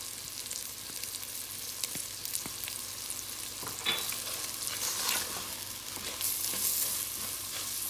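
Garlic and onions frying in a pan, a continuous loud sizzle with crackling pops and occasional stirring scrapes, heard alone.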